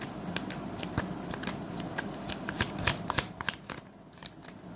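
Tarot cards are shuffled and drawn, a brisk run of soft papery flicks and slaps in irregular rhythm, close by and fairly quiet, without talk.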